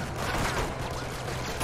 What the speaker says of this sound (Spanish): va a venir ahora otra ráfaga